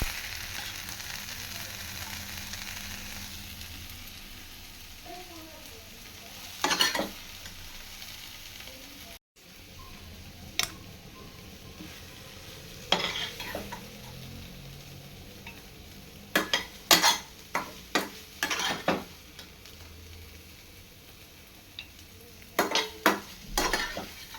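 Cauliflower gravy masala sautéing in a pan, with a soft low sizzle under scattered spoon scrapes and clinks against the metal, some coming in quick clusters, close and moderately quiet.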